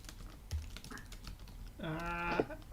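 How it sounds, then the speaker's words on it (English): Faint, scattered keystrokes tap on a computer keyboard during a maths livestream, quiet and irregular, with a brief voiced sound near the end. "I'm still typing a technical answer to that one."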